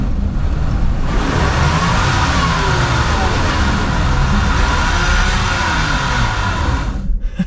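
A Toyota Corolla Cross AWD in sport mode spinning its wheels off-road, with a loud, steady engine drone and a wavering rev held for several seconds before cutting off abruptly.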